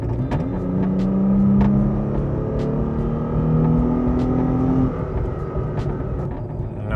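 A third-generation Toyota Tacoma with an HPS Performance intake accelerates in casual driving, its engine drone rising in steady pitch sweeps across two gear pulls before easing to a lower, even hum, with no talk.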